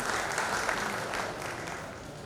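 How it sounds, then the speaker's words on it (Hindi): Steady, dense applause from a crowd, sustained throughout and gradually fading slightly toward the end. "जोरदार तालियों से स्वागत अभिनंदन करता हूं।"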